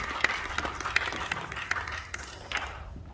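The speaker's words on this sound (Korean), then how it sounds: "우리 하명주 교수님 박수로 모시겠습니다" Audience clapping to welcome a professor at a church education-policy symposium, a short burst of scattered claps from a modest crowd in a hall that thins out and fades after a few seconds.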